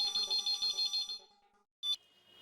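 A phone rings indoors with a repeated electronic warbling tone in quick pulses, cut off after about a second and a half, then a short final chirp follows.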